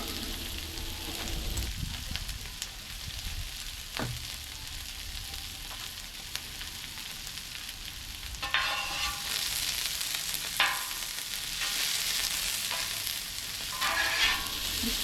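Broccoli and onions fry in a pan seasoned with salt, pepper, garlic powder, onion powder and paprika, a steady close sizzle with brief stirring bursts that grow livelier in the second half.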